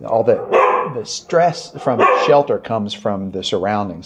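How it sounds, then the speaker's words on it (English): Another dog barks at an animal shelter, several sharp yips and barks in the background beneath a woman's continuous close speech. "if you can hear that other dog barking"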